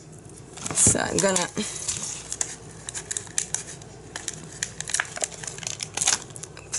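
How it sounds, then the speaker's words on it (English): Scissors cutting a scrapbooking card in half, a short crisp run of snips and paper crinkling close by, with someone speaking over it. "I'm gonna cut it in half."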